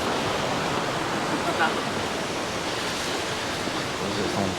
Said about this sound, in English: I think we have come to the waterfalls